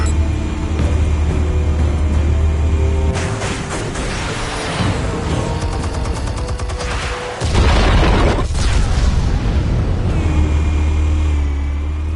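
Armed explosives going off in Batman: The Telltale Series, a loud booming burst amid a dense, continuous rumbling score, with a sharp drop and a renewed heavy blast partway through.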